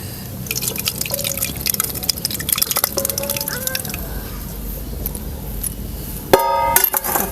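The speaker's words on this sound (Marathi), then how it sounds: "आता हे दही का नाही ह्या भांड्यात ओतून घेते मातीच्या भांड्यात" Thick curd plops and drips wetly into a clay pot with soft irregular splashes, followed briefly by a voice at the end.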